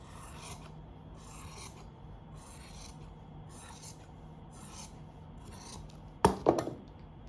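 Scissors cut fabric for an umbrella-shaped sleeve in quiet, even snips about half a second apart, then something lands in a short, sharp clatter near the end.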